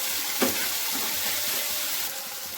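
Fish being stirred into a spiced mixture in a frying pan, a steady hiss of frying with soft stirring scrapes and a single louder knock near the start, with no talking.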